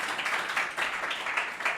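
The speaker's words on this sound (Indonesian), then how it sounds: "Tepuk tangan ya." Brief, faint audience clapping in a creative industries lecture room, a thin patter of hands with no voices over it.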